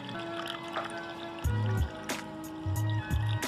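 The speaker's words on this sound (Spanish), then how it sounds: "vamos a vertir agua en nuestro recipiente de manera que no la cubra" Water poured into a container holding a potato, trickling and splashing in short bursts with gurgling pauses, close by and fairly clear.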